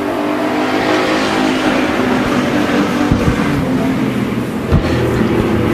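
Hobby stock race cars at Bakersfield Speedway roar off turn four at the green flag, a loud, dense, continuous engine din with a couple of sharp bumps or pops near the end.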